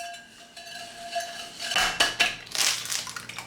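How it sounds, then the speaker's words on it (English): A spoon or whisk mixes ingredients in a cute bowl, giving close, irregular clinks and scrapes against the bowl that grow busier and louder toward the end. "Give it a good mix."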